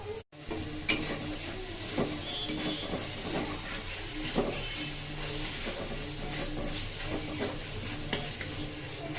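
Spices for a rohu fish curry being sautéed in a pan, with a steady low sizzle under repeated stirring and scraping of a spoon against the pot, close and continuous with no talk.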